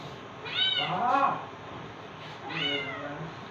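A cat meows loudly twice for its breakfast rice near a home kitchen, two drawn-out cries with a pause between them, close and clear with no talking over them.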